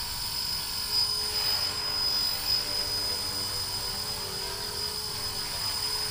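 A Blade Fusion 180 RC helicopter hovers in a yard at about half throttle in normal mode, giving a steady, continuous high-pitched rotor and motor whine that holds level throughout with no talking.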